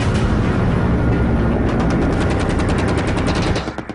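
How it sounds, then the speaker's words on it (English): An AH-1 Cobra attack helicopter fires its guns and rockets in a loud, sustained burst of rapid gunfire and blasts that continues throughout before easing slightly at the end. "The Cobra's rockets and guns take out tanks, vehicles, bunkers, and infantry"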